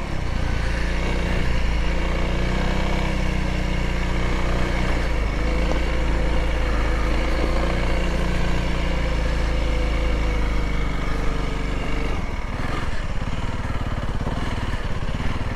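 A Honda CRF300L dual-sport motorcycle engine runs steadily through deep sand at Gold Butte, a loud, continuous near drone that rises and falls with throttle and shifts tone near the end.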